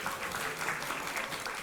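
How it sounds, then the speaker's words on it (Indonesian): Applause for the jury at a junior high school quiz competition among Palembang schools, a steady dense patter of many hands clapping that holds evenly through the short stretch, with no voices standing out. "Tepuk tangan dong untuk Dewan Juri"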